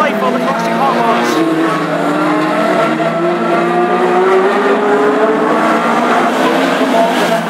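Classic hot rod race cars at Aldershot Raceway during a Summer Sizzler final, engines roaring continuously and loudly with shifting revs and some tyre noise as the pack laps the oval, under steady commentary.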